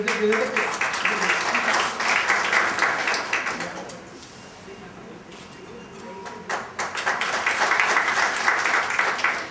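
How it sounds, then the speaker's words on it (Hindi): Applause at an official government meeting hall, a crowd clapping in a broad wash that fades to quiet midway and then rises again, with speech heard over parts of it. "इन सब के लिए एक बार जोरदार तालियां"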